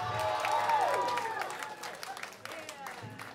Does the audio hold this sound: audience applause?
yes